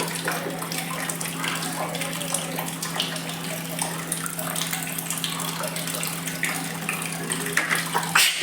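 Water running from a tap into a bucket, a steady rushing pour with a constant low hum underneath, continuous throughout and unbroken by voices.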